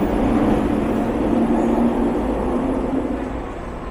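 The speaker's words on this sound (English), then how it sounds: "There, of course, goes the other train." A commuter train passes on an outdoor line in downtown Vancouver with a steady, loud rumbling roar that fills the air and begins to ease off toward the end, with no talk heard over it.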